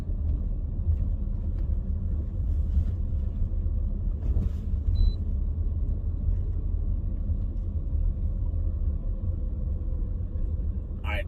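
Steady low rumble of a car driving slowly on a road near a lake, heading down toward a gazebo in upstate New York in wintry conditions, continuous and close throughout.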